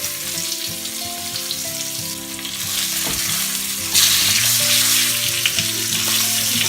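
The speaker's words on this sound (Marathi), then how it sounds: "मी तांदळाचं पीठ वापरलं आहे" Salmon pieces coated in rice flour shallow-fry in a pan for a spicy Malvani-style fish fry, a loud continuous close sizzle that swells partway through, with occasional stirring and no talk.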